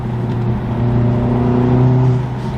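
An Audi S3 engine with a carbon fiber intake revs steadily with a deep, throaty drone, rising slightly in pitch then easing off, loud and close, no speech.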